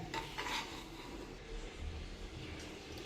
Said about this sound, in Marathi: सतत हलवत राहायची आहे, खालीवर परतून घ्यायची आहे.